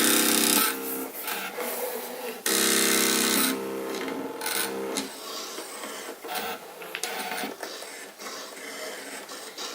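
A Brother SDX cutting machine slices fabric on an old mat, giving a close, continuous whirring and scraping motor sound with short bursts and pauses as the blade carriage moves.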